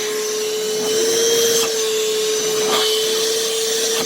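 A Homasy rechargeable handheld cordless vacuum runs steadily and close by, with a constant motor whine and airy suction hiss that swells slightly midway, with no talking over it.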